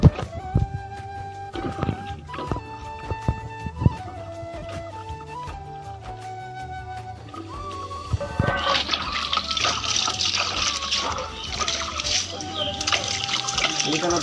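Water runs and splashes at a household sink while food is washed, a sloshing gush that grows stronger partway through, with background music and clattering underneath.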